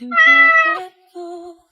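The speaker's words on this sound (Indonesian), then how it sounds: "Kucing dari mana ini? Kok lo bisa masuk? Lo lapar?" A house cat meows twice, close and clear, a long drawn-out harmonic call followed by a shorter second one after a brief pause, with no voices.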